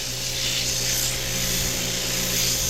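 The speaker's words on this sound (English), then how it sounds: "I like sanding it like this, not just with a machine holding a drill" Steady, continuous rubbing and rasping of sandpaper held by hand against turned wood, close and even in level, with a faint mechanical hum underneath.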